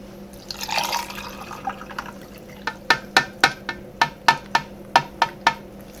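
Liquid being poured into a cup of fizzy water for homemade strawberry soda, heard after a brief splash as a run of about a dozen distinct, evenly spaced drips and plops, close and fairly loud with no talking.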